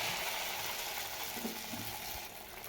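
Rice batter ladled into hot oil for vada gives a soft, faint hiss and sizzle that holds steadily for a couple of seconds and eases off near the end.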